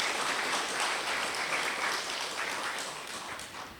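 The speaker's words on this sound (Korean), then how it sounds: "심사위원 여러분께 다시 한번 큰 박수 부탁드립니다" Audience applause at the Kyungam Prize award ceremony for the judges, full steady clapping that gradually fades toward the end.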